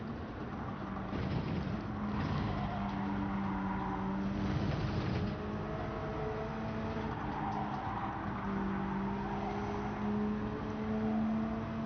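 A Subaru BRZ engine in Gran Turismo 7 hums and whines steadily, its pitch shifting slightly as it revs, with a low rumble underneath.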